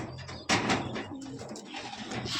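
Pigeons coo in soft, low repeated phrases at close range while other birds chirp around them, with a sharp knock near the start and steady background noise throughout.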